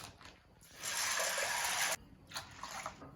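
Water pours into a bowl of chickpeas in a loud, rushing stream for about a second. Then it stops, and a few shorter splashes follow.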